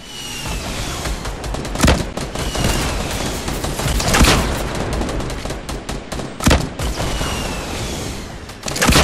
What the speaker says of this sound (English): I'm gonna start blasting them with rockets.